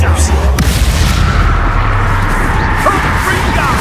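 Confringo spell blasts boom in a Hogwarts Legacy camp battle, a loud continuous rumbling roar with whooshes and crashes layered over combat noise.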